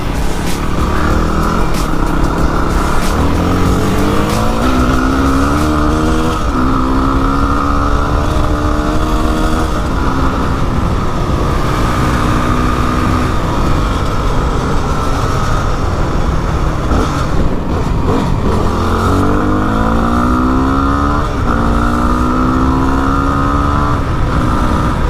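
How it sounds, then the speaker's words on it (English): A Yamaha WR250R dual-sport motorcycle with an open header exhaust roars loudly while riding, repeatedly revving up through rising pitches and dropping back as it shifts, with constant wind rush. "when you're ripping it on an open header exhaust system, it's just screaming in first gear"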